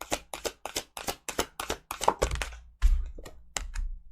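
A deck of tarot cards is shuffled in a steady run of quick riffling bursts, close and fairly quiet, ending with a few thumps as the deck is squared; no one speaks.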